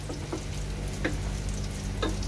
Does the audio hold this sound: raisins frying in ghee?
yes